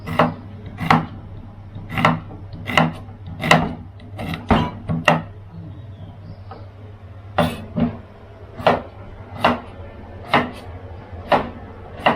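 Daikon radish and pork are chopped into bite-size pieces on a cutting board, a steady series of sharp knife thuds in an even rhythm with a short pause midway, close and clear, no talking.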